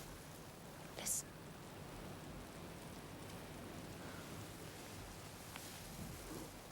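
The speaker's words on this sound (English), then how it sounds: "Lovely. Like music. The rain." Steady soft rain patters on a surface close by, a continuous faint hiss with a brief sharper splash or crackle near the start and no voices.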